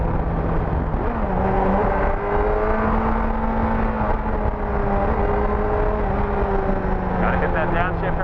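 A car engine revs and drops through a downshift on the road, its loud droning tone sliding in pitch and then settling, with voices talking over the steady engine noise.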